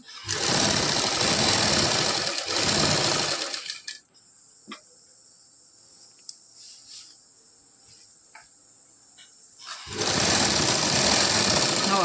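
A sewing machine runs fast stitching the side seam of a salwar, a loud steady whir that stops for several quiet seconds with faint clicks and handling, then starts again near the end.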